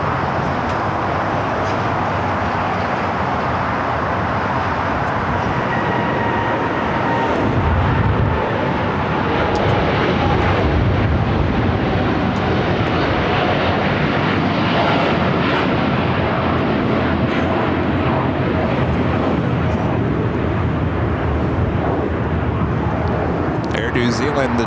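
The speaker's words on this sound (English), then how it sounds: "the 777 just touching down here on the south side on 25 left" A Boeing 777 airliner touching down on runway 25 Left at LAX, a broad, loud jet roar that swells and holds under continuous spoken commentary.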